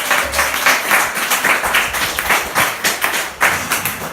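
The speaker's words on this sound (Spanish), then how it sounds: "Un aplauso grande para Dios." Applause in a church service, a congregation clapping in uneven bursts with thuds and taps over about four seconds, fairly loud and close, no speech over it.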